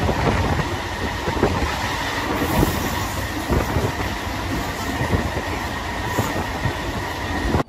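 A MEMU Express train runs at speed, its wheels rumbling and clattering steadily on the rails from inside the carriage, with faint squeals and no talk.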